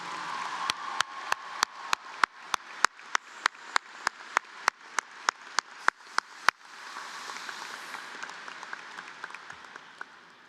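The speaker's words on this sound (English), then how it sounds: "a massive round of applause to the teachers and staff members of Massanutten Technical Center" Audience applause for the teachers and staff at a technical center graduation ceremony, beginning as sharp scattered claps that swell into a dense, sustained round of clapping filling the hall.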